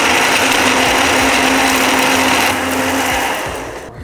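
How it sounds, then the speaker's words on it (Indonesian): A kitchen blender grinds peanuts, anchovies and other ingredients with a little water, a loud steady whirring drone that eases off and fades near the end, no talking. "kita blender ya"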